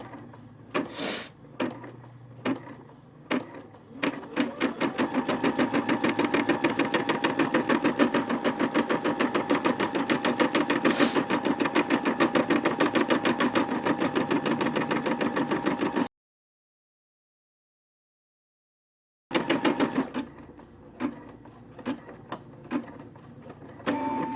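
An embroidery sewing machine stitching with a rapid, steady mechanical chatter for several seconds, preceded and followed by a few separate clunks, with a brief dead-silent gap near the end before the clatter resumes.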